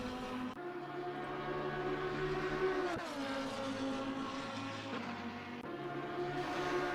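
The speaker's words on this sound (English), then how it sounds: "Nordschleife as we are on board with Sievert in the Lamborghini Huracan GT3 Evo" A Lamborghini Huracan GT3 Evo race car heard on board on a wet Nordschleife: a sustained engine drone that rises in pitch, with abrupt drops at gear changes roughly every few seconds, loud and continuous.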